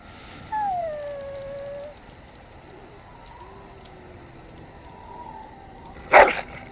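A dog in the video game Dragon Age: Origins lets out long, wavering howls that rise and fall, clear and fairly close, ending with a sudden short thump.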